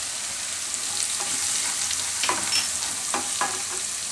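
Asafoetida and curry leaves sizzling in hot oil for a Rajasthani dahi papad curry, a bright steady crackle with a few sharp pops and stirring scrapes near the end, close and without talk.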